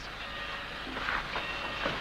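A Wild West passenger train rumbles steadily with a broad mechanical roar and faint rattling, close and moderately loud, continuous for about two seconds without speech.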